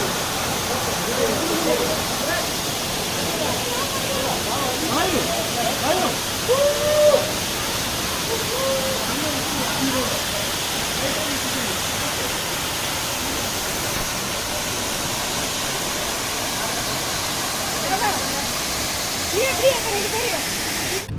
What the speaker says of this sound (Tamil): பின்னாடி பாருங்கள் வாட்டர் எப்படி விழுது